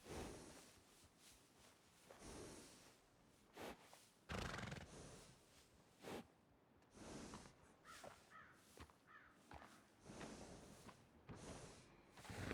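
Horse sounds in Red Dead Redemption II come in scattered bursts, snorts, whinny-like calls and short noisy blasts, separated by silences, moderately quiet overall with a sharp sound at the end.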